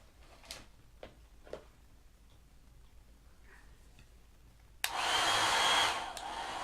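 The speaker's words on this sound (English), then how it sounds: "So we're going to have to blow dry this good" A hair dryer blows on a resin glass block, switching on abruptly after a few faint ticks and running as a loud, close, steady rushing blast for about two seconds before easing slightly.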